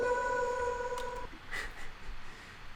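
A sung vocal fill from a home-produced music track holds a clear pitched tone for about a second, then fades into quiet background noise with a faint later blip.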